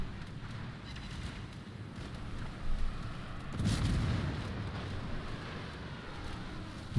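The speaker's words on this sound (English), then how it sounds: "We're gonna watch your depth charges get launched." Depth charges are launched and explode in a naval warship game: faint distant thumps and a muffled low blast, set against a soft wind-like rumble.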